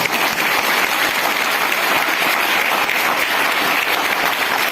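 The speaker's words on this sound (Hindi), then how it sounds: "एक बार अपने लिए जोरदार ताली हो जाए।" An audience at a gathering of business leaders bursts into loud, sustained applause, a dense, steady clapping that fills the whole stretch.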